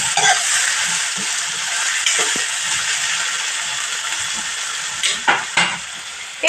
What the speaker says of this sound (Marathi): डाळीला बॉईल केलेलं आहे आणि कांदो बघा इकडे चालत आहे.